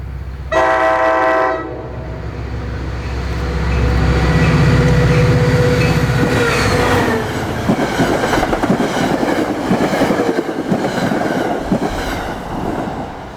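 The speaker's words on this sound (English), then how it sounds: "Next came Express Train 77 to Port Jervis with 4218 hauling through Allendale Station." A Metro-North express train hauled by locomotive 4218 speeds through Allendale Station on its way to Port Jervis, opening with a loud horn blast and then a rising, close roar of rolling cars and clattering wheels.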